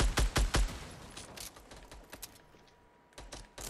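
Gunfire in Fortnite Battle Royale: a loud, close rapid burst of shots opens, then scattered sharp single cracks follow and thin out before a few more shots at the end.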